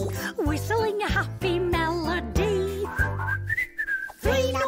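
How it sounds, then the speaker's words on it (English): A person whistles a bright, bouncy tune, the melody climbing and dipping in clear, close notes. "whistling a happy melody"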